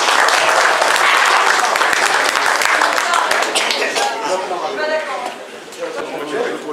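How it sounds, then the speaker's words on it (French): Loud, full applause from the audience at a hare-hunting hound pack competition fills the room and slowly tapers off, with chatter and a few chuckles mixed in. "Merci à eux pour les applaudissements."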